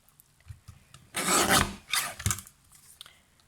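A paper trimmer slices through designer series paper in two short rasping strokes, close and crisp, separated by a brief pause, with faint handling taps before and after and no voices.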